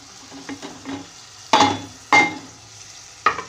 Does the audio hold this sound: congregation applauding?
no